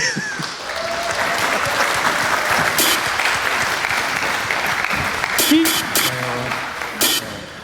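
Applause from an audience at a live coding event, sustained clapping that holds steady for several seconds, with a few shouts and cheers breaking through near the end.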